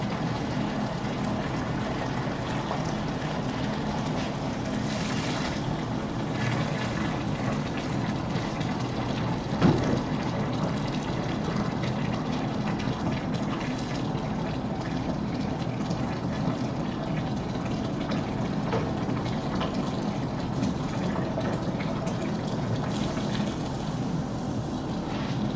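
Steady rush of water filling a mash of grain for all-grain home brewing, a continuous gushing pour close by that runs unbroken throughout, with no talking.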